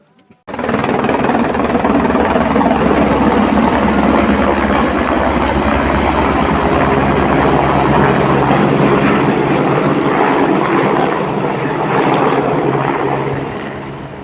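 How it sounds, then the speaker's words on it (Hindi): Helicopter passing near Muktinath, Nepal, its loud, steady rotor chop and turbine roar filling the air close by, holding strong throughout before easing slightly at the end. "अभी हेलीकॉप्टर आया है"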